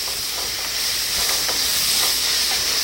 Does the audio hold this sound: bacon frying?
yes